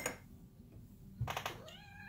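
A kitten meows nearby, with a short cry at the start and then a clearer, rising meow near the end, heard indoors in a quiet room with faint handling noise.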